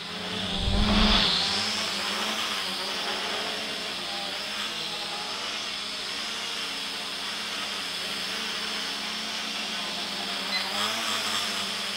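A Skywalker cage quadcopter drone hovering indoors, a steady loud whining rotor buzz that runs throughout after a brief louder burst near the start, close to the microphone.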